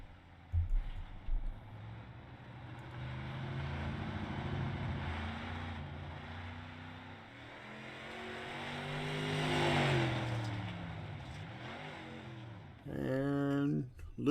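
Race car engine in the iRacing video game on a qualifying lap at Volusia, a faint revving drone that rises and falls in pitch under commentary, ending with a brief louder rev.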